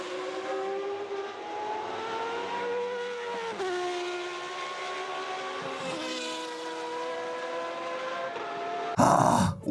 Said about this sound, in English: The engines start up. The sound of the V10's engines ignites the crowd that is ready to enjoy the show.